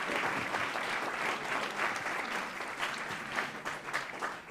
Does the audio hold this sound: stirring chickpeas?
no